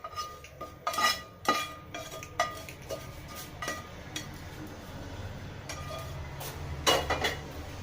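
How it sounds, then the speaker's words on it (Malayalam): A spoon clinking and scraping against a pan while okra pachadi (ladies finger curry) is stirred with fried mustard seeds, curry leaves and onion, with sharp metallic knocks early on, then softer steady scraping, close and without talk. "നല്ലപോലെ ഒന്നും കൂടി മിക്സാക്കി എടുക്കാം"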